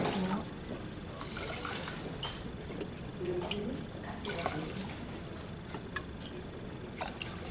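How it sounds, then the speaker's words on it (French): Water poured into a pot holding about one part buckwheat, five parts water, for a breakfast porridge; a steady splashing pour runs throughout at moderate loudness with a soft hiss. "Et je mets 5 volumes d'eau."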